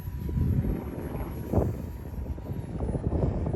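An RC batwing model airplane flies outdoors, its propeller motor giving a steady broadband buzz with wind noise, swelling briefly near the middle and holding fairly constant throughout.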